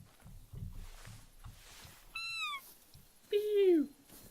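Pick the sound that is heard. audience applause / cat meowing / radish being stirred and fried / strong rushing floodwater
cat meowing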